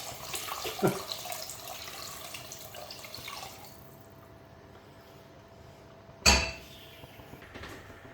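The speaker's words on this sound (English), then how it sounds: "I'm just going to add in the vegetable stock into the pot hopefully" Vegetable stock poured into a cooking pot of softened garlic, a continuous liquid splash for about four seconds that then quiets, followed by a sharp clunk or knock near the end.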